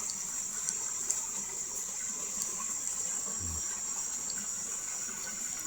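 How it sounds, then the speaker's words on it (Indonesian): Water flows steadily where two rivers meet, a continuous, fairly faint rushing under a bright, high insect drone. "pertemuan antara dua sungai ini guys"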